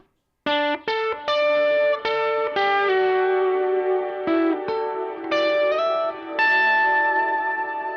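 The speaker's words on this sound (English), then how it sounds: "That's the Terra Echo." An electric guitar played through a Terra Echo effects pedal rings out in glassy plucked notes and chords, each decaying into a shimmering echo tail, loud and alone.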